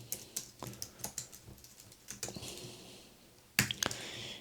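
Quick bursts of keystrokes on a computer keyboard clatter close by in an uneven rhythm, a short pause, then a firmer key press, alone without voices.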